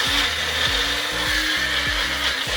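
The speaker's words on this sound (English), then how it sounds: "We're going to drop it right into our magic bullet and go ahead and blend our seasonings together." A Magic Bullet blender whirs steadily and loudly as it blends seasonings for Jamaican green seasoning, its motor pitch dipping and surging in a regular rhythm roughly every half second, with no voices.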